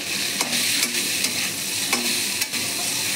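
Soybean chunks fry in oil, turmeric and salt with a steady broad sizzle, broken by a few sharp scraping stirs of a spatula at irregular intervals.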